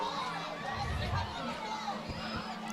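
Crowd at a Fort Madison vs Burlington varsity high school football game with the student section on its feet, a steady murmur of cheering and shouting in the background beneath a commentator's voice.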